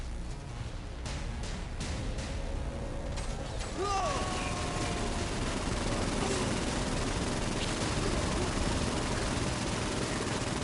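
Gatling guns and a rocket launcher mounted on an armchair in the video game Disoriented: mechanical whirring and ratcheting with rapid rattling fire, then a continuous roaring barrage from about four seconds on, loud and close.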